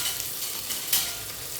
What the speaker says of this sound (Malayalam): ഇനി നമ്മളിത് ഇളക്കണം.